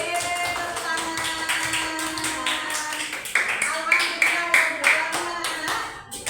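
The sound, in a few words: applause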